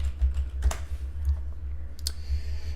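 Sparse, close keyboard clicks as someone types on a computer, a few separate keystrokes over a low steady hum.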